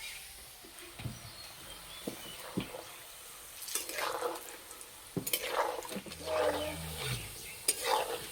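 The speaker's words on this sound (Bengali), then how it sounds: "এবার ভেজে নেব।" Ripe mango nadu frying in hot white oil in a karai, with sporadic soft sizzling and occasional stirring scrapes, fairly quiet with a brief low rumble near the end.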